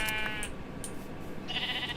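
Sheep bleating in the Minecraft modpack GT New Horizons, several short wavering bleats at moderate volume with game ambience and no talk.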